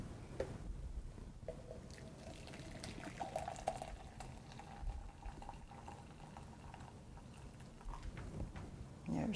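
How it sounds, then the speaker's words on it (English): Coffee is poured into a container, a faint, continuous liquid trickle and splashing with soft clatter, quiet and close, with a slightly louder burst at the end. "then we'll pour our coffee, about 300 milliliters in each container"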